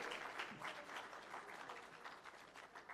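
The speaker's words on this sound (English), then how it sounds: "So give yourselves a round of applause." Audience applause at a public sector leadership conference opening ceremony, a quiet, distant wash of many hands clapping that continues evenly for a few seconds.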